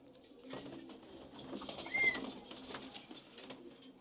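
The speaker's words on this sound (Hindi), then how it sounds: "ये जो बैठा है सफेद आंख का कबूतर" A pigeon with white eyes coos softly in a loft, its low calls faint and close amid a rustling, noisy background; no one speaks.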